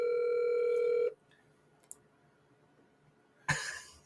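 A speakerphone call plays a steady dial tone for about a second, then goes quiet apart from a faint click, before a burst of noise near the end.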